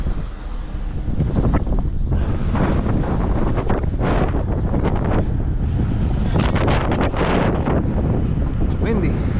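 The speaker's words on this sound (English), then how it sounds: "it's windy" Gusty wind buffets the microphone at a deep roadside ditch during a rotator tow-truck recovery, a loud continuous rumble with surging peaks, with voices talking now and then under the roar.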